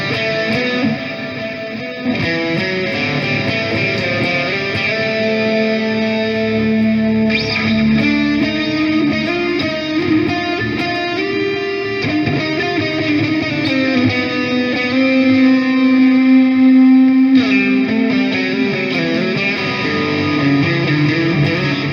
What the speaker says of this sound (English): the last one is a combination of reverb and delay